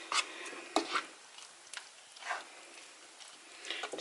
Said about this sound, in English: now let's stir that in